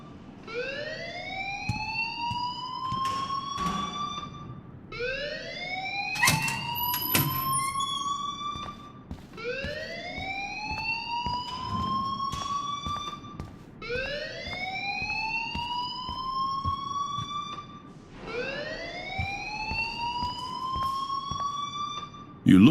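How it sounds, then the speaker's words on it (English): In the video game Life Is Strange, an alarm wails in five repeated rising sweeps, each climbing and holding before dropping away, loud and regular, with muffled voices and background noise beneath. "please turn off that alarm since that's your job"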